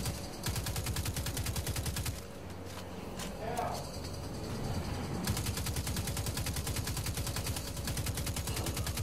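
Steady rapid automatic gunfire from the Destiny 2 Homecoming mission, fairly faint and continuous, pausing briefly midway before resuming, under a busy game soundscape.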